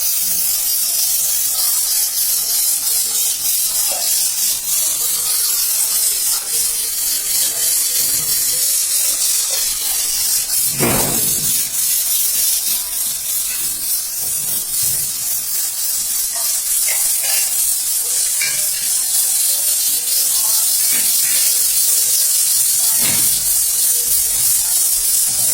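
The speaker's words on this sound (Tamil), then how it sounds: "திரும்பி இட்லி குண்டானை பார்த்தா கொதிச்சுட்டே இருந்துச்சு." An idli steamer pot boils on the stove, putting out a steady, close hiss of steam with occasional soft bubbling pops and clinks throughout.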